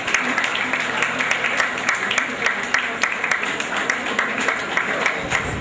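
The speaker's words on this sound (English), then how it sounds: "as he makes his way, a round of applause for Baba" Steady applause from a crowd, dense and continuous clapping filling the space, with voices mixed faintly underneath.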